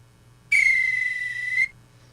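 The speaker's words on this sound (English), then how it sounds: "There's a whistle." A single sustained whistle, one steady bright tone lasting about a second, rings out loud and clear over a faint low hum, then stops abruptly.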